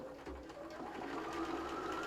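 A sewing machine stitches a quilted mug mat in a steady continuous whirr with a low mechanical hum, close and even throughout.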